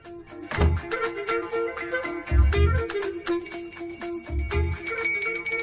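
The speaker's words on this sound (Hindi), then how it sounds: "मुझे जल्दी आओ बोल के यहाँ पर घंटी बजा रहे हो।" A bell clangs in paired strikes about three times, each leaving a lingering metallic ring that carries into the next.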